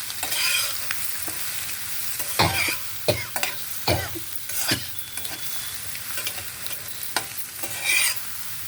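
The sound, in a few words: stirring coriander leaves into a dish frying in a pan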